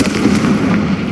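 In the Hogwarts Legacy video game, a Confringo blasting spell erupts in a dense, crackling burst of explosive noise with a low rumble underneath, loud and sustained through the moment.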